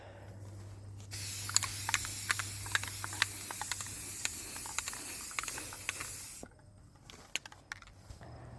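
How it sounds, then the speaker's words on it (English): Aerosol spray paint can hissing in long broadband bursts during a metal tree stand restoration, steady spraying for about five seconds with brief pauses, scattered clicks and taps around it, no talking. "I do have some experience with the can, but I'm not a super spray painter"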